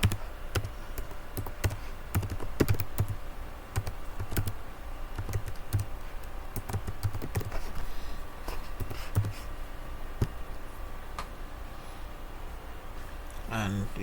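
Keys clack on a computer keyboard while a droplet is renamed during a cloud VM setup, a steady run of close, crisp taps through most of the stretch under a low background hum.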